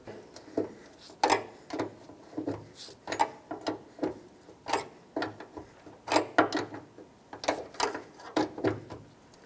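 A ratchet tightening a 12 mm bolt on the lift support of a 1997-2001 Lexus ES300, with rapid clicking bursts close by in an uneven rhythm across several strokes and brief gaps between them.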